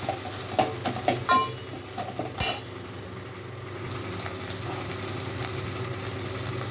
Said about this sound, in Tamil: கருவேப்பில் போட்டுக்கலாம் எல்லாத்தையும் நம்ம நல்லா வணக்கிக்கலாம்